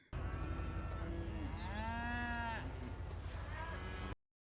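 A herd of cows mooing in a TV drama scene, several overlapping low moos and a higher bleating call, steady and fairly close, with a faint voice underneath.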